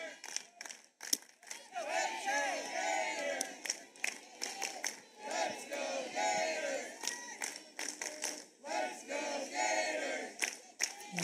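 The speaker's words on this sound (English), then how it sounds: "You hear the crowd cheering for the Gators as they have bases loaded" A crowd at a college softball game between South Florida and Florida cheers and yells in loud waves, swelling and dipping with the bases loaded.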